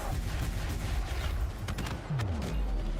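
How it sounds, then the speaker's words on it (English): Ship cannons firing in the space game Elite Dangerous, a string of heavy booming thumps in a loose repeated rhythm over a low rumbling background, close and fairly loud. "God, I love listening to those cannons just thump, thump, thump."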